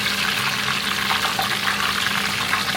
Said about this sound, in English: Drop them in slowly. With anything deep fry, you just want to take your time.